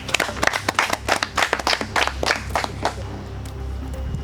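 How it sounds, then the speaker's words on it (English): A handful of trivia contestants clapping for one another on a competition show, with distinct, fairly close claps in a quick uneven patter that stops partway, leaving a quiet room tone. "You can clap for each other."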